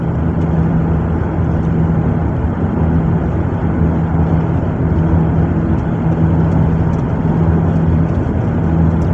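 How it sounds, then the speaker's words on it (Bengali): Steady, loud rush of road and engine noise from cars travelling fast, around 100 to 120 km/h, along a long straight highway cut through hills. The drone is continuous and even, with no talk. "দেখছেন কিভাবে গাড়িগুলো চলতেছে"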